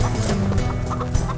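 A chicken clucks in the video game Shotgun Farmers, with a short burst of close, busy fowl clucking and squawks layered over game noise.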